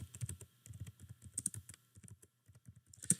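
Quiet tapping on a computer keyboard as text is typed for an accounting calculation, a quick irregular run of light clicks with a brief pause before a final few keystrokes, close and alone.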